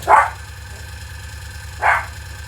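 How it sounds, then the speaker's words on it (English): A dog barks twice indoors, two sharp, loud barks about two seconds apart over a steady low electrical hum. "I don't even know what he's barking."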